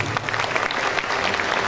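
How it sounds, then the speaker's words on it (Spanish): A crowd applauds at the official opening of the Agroshow Copronar 2024 agricultural fair, producing a thick, continuous round of clapping at an even, fairly loud level with no gaps. "El aplauso de los presentes."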